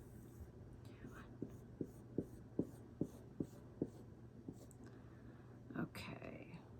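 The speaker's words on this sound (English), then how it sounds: "I'm going to try to do a decent job drawing this." Hand drawing of a diagram for a math lesson on 35/100ths: a run of soft, evenly spaced pen or marker strokes tapping and scratching across paper, close and quiet over a low steady hum.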